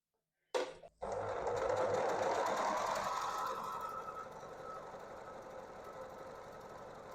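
Sewing machine stitching binding onto the mitered corner of a ruffled napkin: a sharp start, a brief pause, then a fast, continuous close-up whir of stitches that gradually eases off toward the end.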